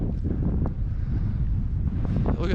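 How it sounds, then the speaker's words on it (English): Extreme wind buffets the microphone on an exposed Scottish hilltop, a loud, continuous roaring rumble with gusty surges throughout. "we're in this extreme wind situation here"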